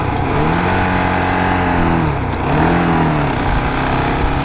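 A 2015 KTM Duke 690 single-cylinder motorcycle drones steadily while being ridden, its engine note dipping and rising with throttle changes, loud and close throughout with wind rush.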